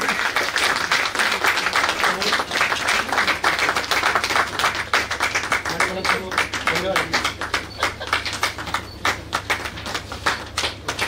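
An audience at an award ceremony for a media conference and journalists' gathering claps in sustained, dense applause, with a voice speaking over it at times.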